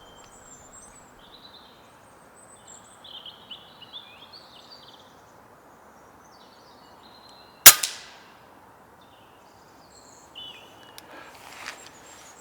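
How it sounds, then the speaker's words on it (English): A single sharp airgun shot fired at a squirrel about 25 metres away cracks out loudly in the middle, with a faint follow-up thud after it, over a quiet outdoor backdrop of birdsong and insects. "The first shot from this spot comes fairly quickly and, not surprisingly, it's another squirrel."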